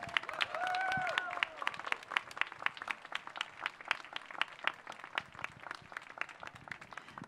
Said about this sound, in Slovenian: Zaploskajmo Mirjam, slovenski nogometašici, slovenske ženske reprezentance